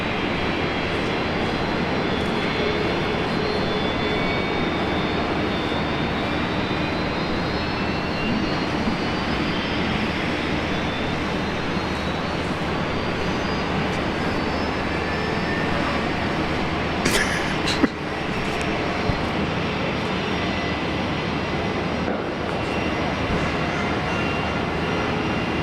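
A jet airliner landing on runway 19 left at Brisbane Airport, heard as a steady, broad engine roar with a slowly rising whine, continuous throughout with a brief sharp transient near the end.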